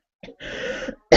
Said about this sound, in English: I'll be coughing at intervals.